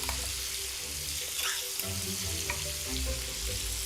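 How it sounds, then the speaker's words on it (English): Tomatoes cooking down in a pan with pancetta and olive oil, a continuous close sizzle and bubbling with a few faint clinks of stirring. "Start cooking them down with that pancetta, olive oil."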